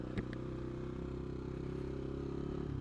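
A CCM Maverick motorcycle with a Husqvarna-derived engine is under way, its loud, steady engine drone running unbroken through the ride, with a brief clattering knock near the start.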